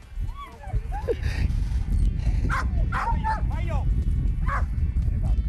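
English bulldog barking in a training session, a few short yips and barks partly masked by people talking over steady outdoor background noise.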